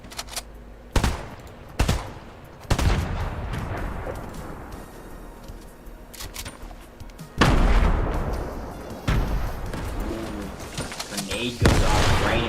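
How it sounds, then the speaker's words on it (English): A grenade goes off in a Fortnite match, one of several loud, sharp blasts and bursts of gunfire scattered through a busy stretch of gameplay, with talk running over much of it. "Grenade goes off right in front of Boswell"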